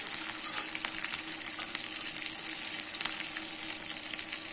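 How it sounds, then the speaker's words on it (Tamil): Ingredients with curry leaves sauté in hot oil in a pan for uppu appam, giving a steady bright sizzle that runs continuously and evenly throughout, close by with no voices. "ரொம்ப வதங்க வேண்டாம், லைட்டாக வதங்கினா போதும்."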